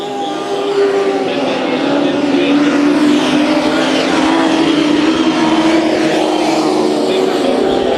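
Race cars in a heat race at Bakersfield Speedway, a dense, sustained roar of several engines circling the track, loud and continuous throughout with shifting pitch as they pass.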